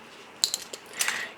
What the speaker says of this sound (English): let's remove the clamp